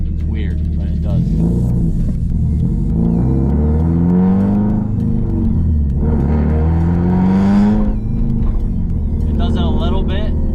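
A turbocharged car fitted with a Tomei Expreme Ti titanium exhaust drones loudly from inside the cabin, its engine note rising and falling through several revving pulls under boost.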